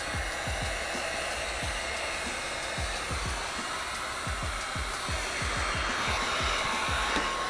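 A heat gun blows in a continuous loud whoosh while window tint is applied to a 2021 Cadillac CT5 door, with rapid rhythmic ticks underneath.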